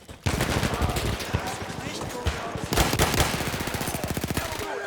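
Rapid gunfire and explosions from the video game Battlefield 1 rattle loud and close in dense bursts, with a grenade among the blasts, nearly continuous across the moment.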